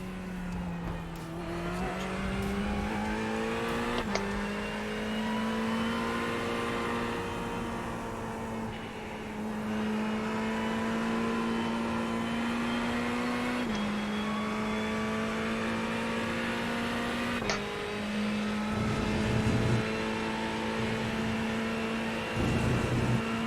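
A GT3 race car in a racing video game held at full throttle, its engine note climbing steadily through the gears with brief dips at each shift, loud and continuous with no talk.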